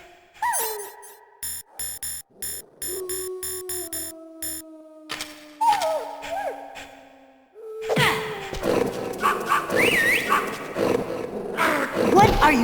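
A dog in Metal Gear Solid on the PS1 gives sharp, repeated barks and growls, with sustained electronic tones and synth music nearby. A louder, dense burst of noise and music fills the second half.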